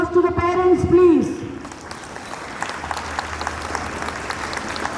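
School ceremony audience applauding the parents, a broad wash of clapping that follows a short stretch of speech and carries on steadily at moderate level.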